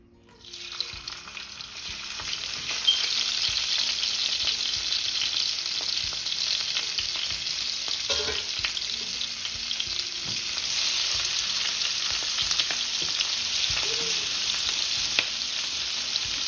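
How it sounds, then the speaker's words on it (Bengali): Shrimp rubbed with salt and turmeric frying in oil, a strong continuous hiss and crackle that builds in the first few seconds and then holds steady, with occasional pops and faint stirring clinks. "চিংড়ি মাছগুলোকে আমি কিন্তু তেলে দিয়ে দিলাম এখন আমি এগুলোকে হালকা করে ভেজে নিচ্ছি"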